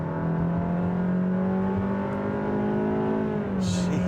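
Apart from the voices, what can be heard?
2023 Honda HR-V accelerating in sport mode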